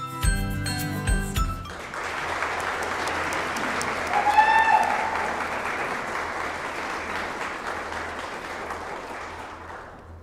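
A short ringing chime opens before the audience at a Teacher of the Year ceremony breaks into sustained, even applause that fills the hall for several seconds and slowly tapers off.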